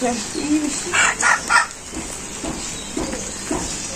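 Village chickens cluck and cackle in short nearby bursts over a constant background hiss, with quieter clucks continuing intermittently.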